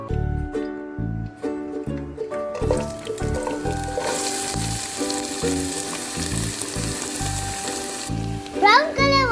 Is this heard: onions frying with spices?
yes